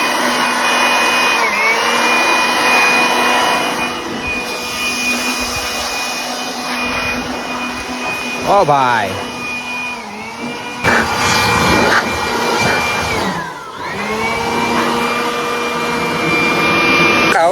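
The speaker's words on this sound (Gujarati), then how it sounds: "આગળ હવાયું મારીએ પછી જોઈએ આગળ કેટલી ધૂળ ઉડે" Compressed air blasts dust off a Blue Horse 63 tractor, making a loud, continuous roaring hiss with a high whine that shifts pitch as the nozzle moves. A man briefly calls out over the noise.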